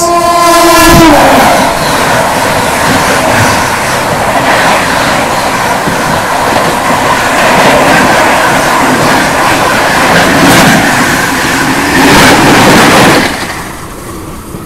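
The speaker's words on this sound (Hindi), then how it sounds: "भाई ये गजब की हॉकिंग के साथ अभी आ रही है यहाँ पे हावड़ा नई दिल्ली राजधानी एक्सप्रेस।" The Howrah–New Delhi Rajdhani Express sounds a loud, sustained horn as it approaches, then roars past close by with heavy, continuous wheel and carriage rumble that cuts off abruptly near the end.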